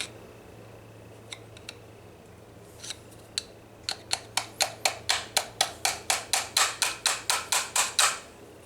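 A roll pin is tapped into a Duraspark distributor: a few scattered light metallic taps, then a fast steady run of about fifteen sharp hammer taps, close and clear, with no talking.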